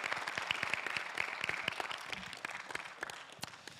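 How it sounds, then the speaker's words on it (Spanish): Church congregation clapping in response to a call to applaud the Lord during a bilingual sermon, fairly quiet scattered claps at a steady pace, gradually softening. "Give a big applause to the Lord."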